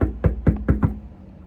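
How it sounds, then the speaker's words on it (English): Five quick, close knocks on a door at a Kingdom Hall land in a tight, uneven burst, followed by quiet. "Just knocking on the door."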